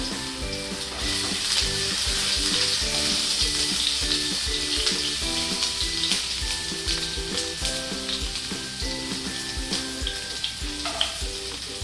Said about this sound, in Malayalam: എണ്ണ ചൂടായിട്ടുണ്ട്. ഇഞ്ചി ഇട്ട് കൊടുത്തു.